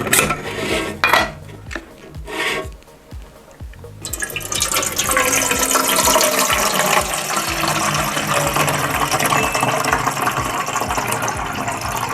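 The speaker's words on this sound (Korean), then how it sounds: "자, 그럼 물을 한번 넣어볼게요." Water being poured into a camping pot, a steady splashing fill that starts after a few clattering metal knocks and runs continuously at close range with no talk.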